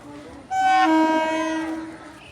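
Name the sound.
train arriving at station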